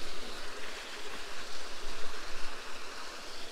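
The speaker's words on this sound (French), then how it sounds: "de l'eau qui coule à foison sur une île du Cap-Vert" A waterfall and flowing water on Santo Antão in Cape Verde make a constant, even rushing hiss that fills the scene without pause, moderately loud and heard alone.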